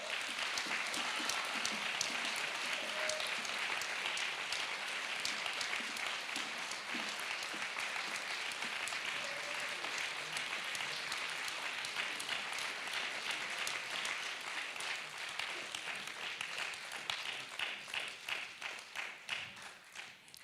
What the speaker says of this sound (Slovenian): Prav lepo je slišati podporne vzklike iz pristne publike.